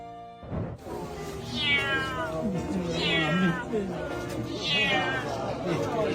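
A cat reunited with its owner after a week apart following flood evacuation meows loudly and insistently, three long rising-and-falling cries close up, with a person speaking alongside.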